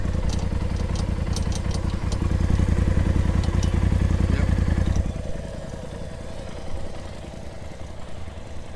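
A 2019 Polaris RZR Turbo idles with a loose rattle over its steady, throbbing engine note. It is loud and close at first, then drops to a softer idle about halfway through.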